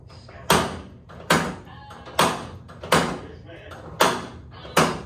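Door handle and lock on a 1976 Chevy K5 Blazer door, worked repeatedly: six sharp, loud metallic thunks and latch clacks spaced about a second apart, close up, with faint low background noise between them.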